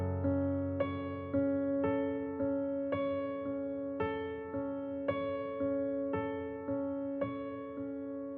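A piano plays repeated chords, struck evenly about once per half-second in a steady pulse, each one sustaining and decaying softly, heard up close without talking.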